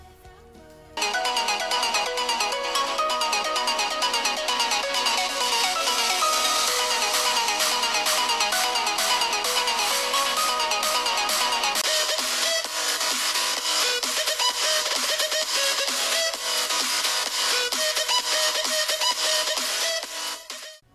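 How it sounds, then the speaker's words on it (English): Music plays through the speakers of Redmi Note 5 Pro and Xiaomi Mi A1 phones in a loudspeaker test, starting after a second and running loud and continuous before fading at the end. "I also did a sound test with Redmi Note 5 Pro and Xiaomi Mi A1, and these are the untouched samples of both phones."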